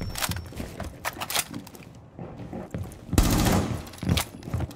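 Rainbow Six Siege gunfire: several loud, sharp bursts of shots in quick succession, a brief lull, then another heavy volley, with faint clatter in between.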